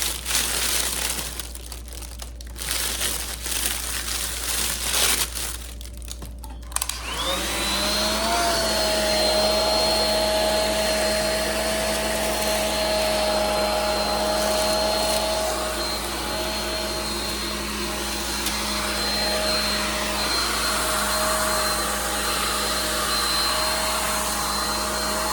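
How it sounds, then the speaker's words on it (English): A hair dryer blows steadily and loudly on the shrink wrap around a Mother's Day gift basket, its airflow roar continuous throughout, with brief crinkly rustling near the start and no voices. "holding your top out of the way of the dryer"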